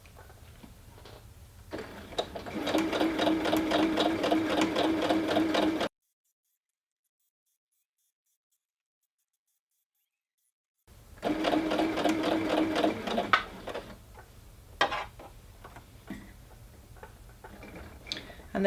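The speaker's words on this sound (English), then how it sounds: "put your foot back down and carry on stitching" Sewing machine runs in two bursts of fast, even stitching through fabric for a Christmas cracker, close and clear, with a silent gap between them and a few soft clicks and handling sounds after.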